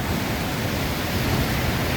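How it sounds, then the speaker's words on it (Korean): Rushing water pours down toward a waterfall in Yellowstone National Park, Wyoming, a loud, steady, broadband roar that stays constant throughout with no voices. "지금 물 내려가는 소리 한번 들어보십시오"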